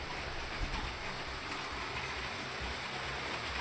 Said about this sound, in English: Steam train coming through the tunnel.